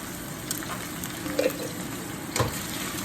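Onions frying with ginger garlic paste for paneer fry, a low steady sizzle with a few soft stirring knocks near the middle and end.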